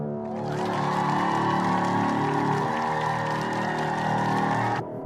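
Feedback guitar run through Destructor's classic heavy distortion preset, a loud, gritty, sustained wall of tone with a pitch shift partway through before it stops abruptly.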